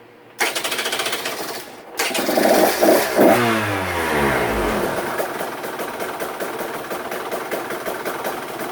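A KTM 125SX two-stroke dirt bike engine, freshly top-end rebuilt with a new piston, sputters to life, revs briefly with a rising whine, then settles into a fast, buzzing, low idle.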